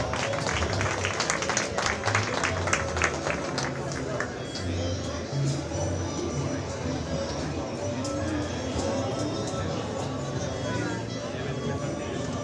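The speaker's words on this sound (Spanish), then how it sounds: "Por favor, fuerte el aplauso." Crowd applause at a university launch event in Santuario, with busy clapping for the first few seconds that then gives way to a steady murmur of crowd chatter and babble.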